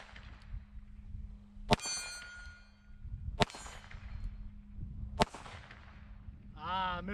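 Three loud .38 Special shots from a Taurus 605 snub-nose revolver with 2-inch barrel, fired single action with 125-grain bullets, each followed by a ringing clang off a steel plate target, spaced about two seconds apart outdoors.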